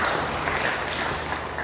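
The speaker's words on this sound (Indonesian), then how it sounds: "Kita tepuk tangan untuk Biro" A room of attendees at an education seminar in Nduga, Papua briefly claps for the bureau, a short muffled patch of applause with some background rumble, fairly steady and lasting under two seconds.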